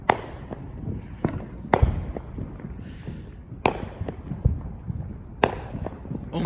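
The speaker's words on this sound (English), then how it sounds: "Pretty cool fireworks over there" Fourth of July fireworks go off from a nearby house, a handful of sharp, loud bangs spaced a couple of seconds apart, with crackling and smaller pops between them.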